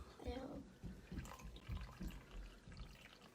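Dirty water drips and trickles through a homemade filter into a cup in a steady wet patter, with soft voices murmuring over it.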